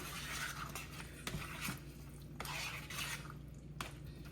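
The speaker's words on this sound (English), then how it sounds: "We're gonna go ahead and stir it right quick." A spoon stirs a simmering pot on the stove, giving faint scraping and a few light clinks against the pot. A soft bubbling hiss runs underneath, all quiet and close, with no talking.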